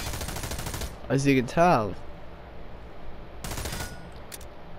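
Rifle gunfire in the online shooter America's Army: Proving Grounds, with a short loud volley of shots near the start. A voice talks over it before quieter game ambience follows.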